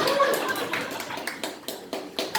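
A church congregation at a Sunday service applauds: scattered, fairly close claps in uneven bursts that thin out over a couple of seconds.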